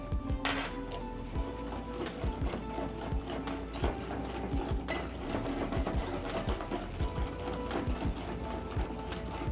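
An electric mixer beats butter with a teaspoon of vanilla essence, giving a steady motor whine with rapid rhythmic clatter as the beaters knock the bowl, continuous at moderate loudness with no talking.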